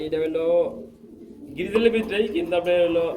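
Pigeons coo in soft, low repeated calls close by, with voices talking over and between them.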